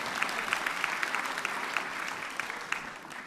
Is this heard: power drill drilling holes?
no